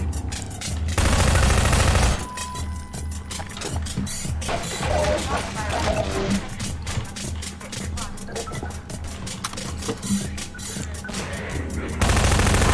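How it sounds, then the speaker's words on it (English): Sustained automatic gunfire aimed at the player during a Half-Life 2 street fight, dense rapid bursts running continuously and loudly throughout. "Someone's shooting me."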